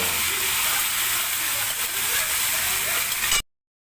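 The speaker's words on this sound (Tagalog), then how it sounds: "Ngayon po ay ilalagay na natin ang minarinate natin na karne" Marinated pork for menudo hits a hot pan with a loud, continuous sizzling hiss that holds steady before cutting off abruptly.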